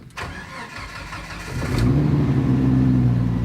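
A Jeep with 120,000 miles cranks over with a starter whir for under two seconds, then catches and settles into a steady, close, fairly loud idle with a low rumbling hum.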